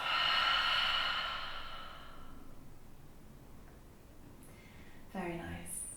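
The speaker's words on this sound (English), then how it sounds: "really exaggerating that sound on the exhale" A long, exaggerated open-mouthed exhale during a slow yoga twist session, loud at first and fading into a quiet breath, followed by a brief soft breathy sound.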